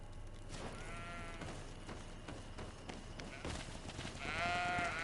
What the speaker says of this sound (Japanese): ヤギこんなにいるの？